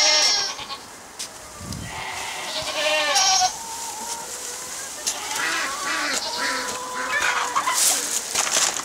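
Goats bleating repeatedly on an allotment, several wavering calls overlapping at close range, with a chicken clucking among them and faint outdoor ambience between cries.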